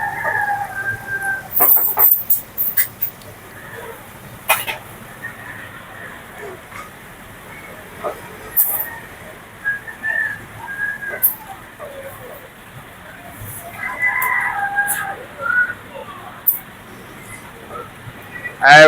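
Chickens and a rooster in a rural yard give scattered clucks and crows at a moderate distance, with people chatting intermittently throughout.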